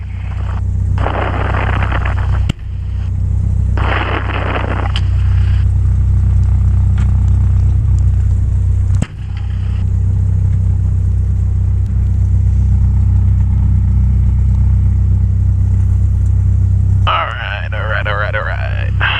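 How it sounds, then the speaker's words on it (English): A light aircraft engine starts and runs with a loud, steady droning rumble, rough at first before settling into an even run, with brief interruptions and shifts in tone. "On the engine start here, it sounds a little rough, and then it evens back out."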